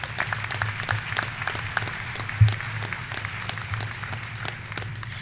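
Graduation ceremony audience applauding, a steady dense patter of many hands at moderate distance with a low hum beneath, no talking.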